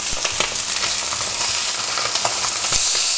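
Sea bass fillets pan-fry with a loud, steady sizzle in a hot pan, with a few scraping knocks as the fish is turned over, close and continuous without talk.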